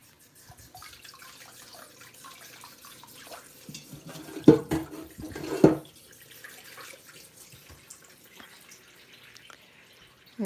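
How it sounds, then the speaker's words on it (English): Running tap water rinses soap off hands at a sink, a steady close trickle and splash with two louder gushes of water, and no talking. "Wash the soap off my hands."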